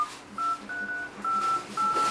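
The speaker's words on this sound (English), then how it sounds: "so when you dial a phone call, there's like a little bit of a noise, a tapping, there's a sound" An Asus Zenfone 6 keypad gives off a quick series of short dialing tones, about five brief beeps in an uneven tapping rhythm, fairly quiet and close with no talk.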